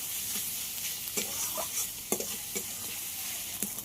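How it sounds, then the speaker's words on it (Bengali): Salted onions sizzle steadily in hot oil, frying until brown, while a spoon scrapes and stirs them in short, irregular strokes. "পেঁয়াজটা দেখুন ব্রাউন করে ভাজা হয়ে গেছে।"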